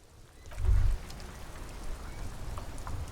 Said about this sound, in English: All around you, rain falls on the great city of Revachol.